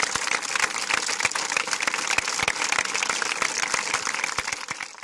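Football fans at a tribute event at the Trigoria training ground give a long, steady round of applause, dense, crisp clapping from many hands at moderate distance, fading slightly at the end.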